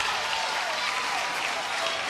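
Crowd at a Little League World Series baseball game applauds, a steady wash of clapping heard from some distance, continuous throughout the short stretch with no break.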